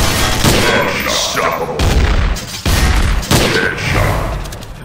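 Gunfire rattles in a Counter-Strike deathmatch, with loud, dense bursts of shots and booms packed close together. The firing breaks off briefly twice between volleys.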